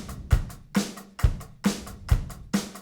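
Drum kit playing a steady beginner rock beat: kick on one and three, snare on two and four, with hi-hat eighth notes ticking between, close and clear with no talk over it.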